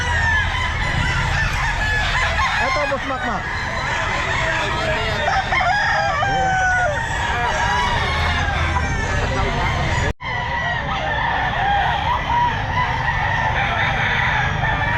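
Many chickens and roosters at a busy pet market, with loud crowing and clucking layered throughout, while someone talks over the birds nearby.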